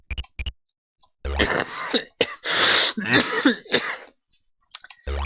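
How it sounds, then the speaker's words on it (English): Several harsh coughs and throat-clearing bursts in a close, quiet room during play of the game Crystal Caves, coming in quick clusters with short pauses between. "Sorry, there are the coughs I mentioned."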